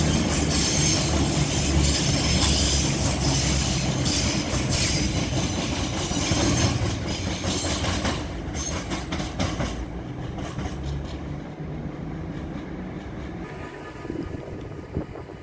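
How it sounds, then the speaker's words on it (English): A CrossCountry Class 220 diesel unit pulls out of Stockport station on the West Coast Main Line, its loud, steady engine roar and rolling wheel noise filling the clip before gradually easing as it moves away. "And now departing is the delayed 1319 cross country service to Manchester Piccadilly from Bristol Temple Meads."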